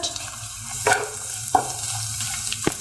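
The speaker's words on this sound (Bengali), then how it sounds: "এদিকে ভালো করে নাড়ি চাড়িয়ে একটু ঝুড়ো ঝুড়ো বানিয়ে ফেলি" Eggs with onion sizzle steadily in a pan while being stirred and scrambled, with a few sharp scrapes and taps of the utensil against the pan standing out over the constant frying hiss.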